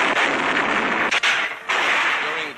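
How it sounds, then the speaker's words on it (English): Chinese artillery fires during the WWII attack on Bhamo, Burma, in archival footage: a continuous heavy rumble of booming gun blasts with a couple of sharper reports, dense and loud, with no talk. "Chinese and American officers plot the attack as Chinese artillery opens up."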